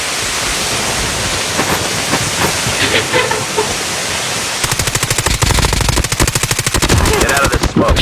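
Heavy automatic gunfire in a shooter video game, a dense loud burst of rapid shots over constant game noise and hiss, with a long rattling stream of fire.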